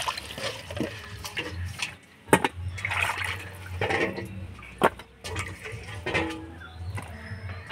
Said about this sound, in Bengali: মাছগুলো পরিষ্কার করে ধুয়ে নিলাম